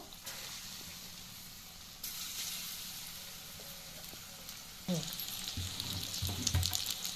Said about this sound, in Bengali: এবার আমি চিকেনগুলোকে ভেজে নেব।